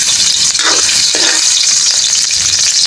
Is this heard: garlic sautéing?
yes